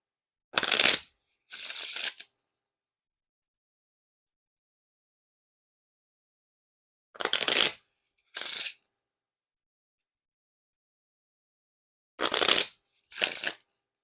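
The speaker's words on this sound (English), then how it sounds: "And now time for that riffle shuffle or bridge shuffle." Three pairs of riffle shuffles of a Bicycle playing card deck, each a brisk fluttering burst followed by a short bridge, separated by silence, close and clear.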